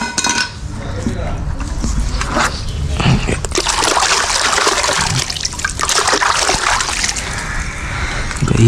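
A giant mud crab of about 1.5 kg, freshly caught from the mud, shifts about in a container of water, giving a steady close trickle and splash with light clattering against the vessel.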